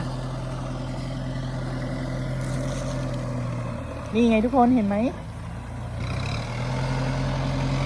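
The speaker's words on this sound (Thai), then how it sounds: "รถไถเขาปั่นนา" Tractor tilling a flooded rice paddy, a steady low engine drone running close by throughout, with someone talking briefly over it midway.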